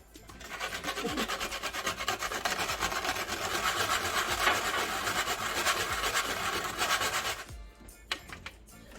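Steady, rapid scraping and rasping of a whole nutmeg rubbed briskly across a grater, continuing for several seconds before stopping.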